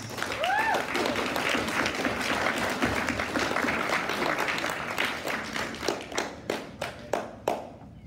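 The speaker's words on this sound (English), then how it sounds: "Good strong clap." An awards-ceremony audience claps steadily in a dense, sustained round after the Excellence in Leadership Award nominees are named at the DigiMedia Red Carpet 2023. The applause then thins into a few separate, sharp claps near the end.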